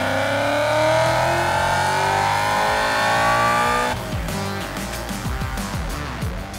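A Whipple-supercharged Ford Mustang with a nearly stock motor screams up through its revs on a dyno at a Ford Nationals event, a loud rising wail with supercharger whine that cuts abruptly, then settles into rough, lower engine rumble.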